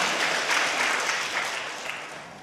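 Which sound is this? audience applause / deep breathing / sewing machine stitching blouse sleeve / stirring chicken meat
audience applause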